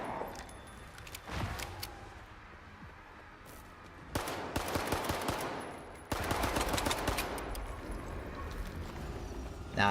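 Automatic gunfire in STALKER 2 on Master Mode, rapid rattling bursts in clustered volleys with quieter gaps between them, fairly close but not very loud, no speech.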